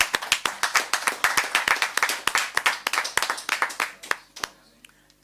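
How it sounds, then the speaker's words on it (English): A smaller round of applause at a municipal council meeting, distinct individual hand claps in quick irregular succession, close and crisp, thinning out and stopping near the end. "I think this deserves a round of applause."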